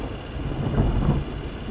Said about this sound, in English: Bit of thunder and lightning.